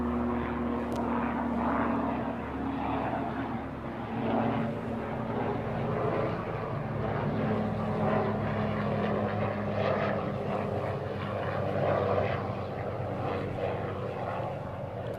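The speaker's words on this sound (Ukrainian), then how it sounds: "Вертольот зараз пролетить" A helicopter passing overhead, with a steady, droning engine and rotor hum that stays loud and even throughout.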